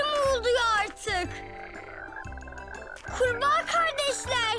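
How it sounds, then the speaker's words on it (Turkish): Cartoon frogs croak loudly in a repeated rhythmic chorus, several bursts of warbling croaks with brief pauses between them, close and clear. "Kurbağa kardeşler, artık biraz sessiz olsak diyorum."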